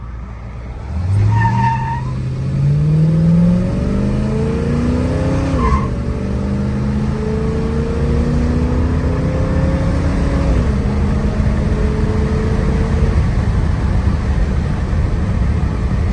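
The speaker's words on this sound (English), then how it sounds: "That was probably a little better than half throttle or so just to get the secondaries to kick in." A 1966 Mercury Cyclone GT390 V8 pulls away from a standstill at a little over half throttle, its engine note climbing steadily through the gears with a brief squeal at launch, loud and close with no talk.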